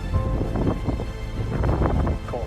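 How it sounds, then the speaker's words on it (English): Wind gusting across an open outdoor spot overlooking huge yellow fields in the UK, a steady, loud rumbling buffet on the microphone throughout, with no speech over it. "Cool. I can feel that wind."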